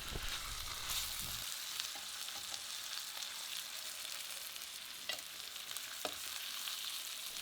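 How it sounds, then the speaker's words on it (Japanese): A bone-in veal chop fries in a pan with fresh unsalted butter, sizzling loudly and continuously, with occasional crackles and pops, close up and with no talking. "フレッシュバターを入れて今から仕上げていきます。"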